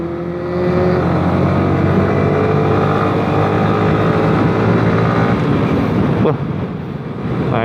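Yamaha R15 2017 motorcycle engine while riding: a loud, steady engine drone with layered harmonics holding across the whole stretch, a brief shift near the end.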